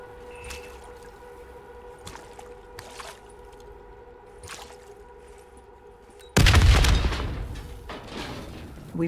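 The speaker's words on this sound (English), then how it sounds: "The explosion blocked our path." A sudden, close explosion in Call of Duty: Black Ops III breaks a quiet hum with scattered faint clicks, then its crashing roar fades into rumbling debris.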